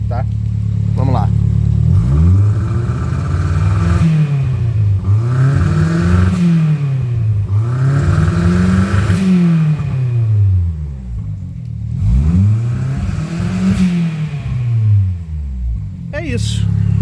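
A 2001 Volkswagen Parati 1.0 16V Turbo, engine still cold, revved repeatedly in smooth rising-and-falling sweeps, several blips in a row heard up close with a steady idle between them.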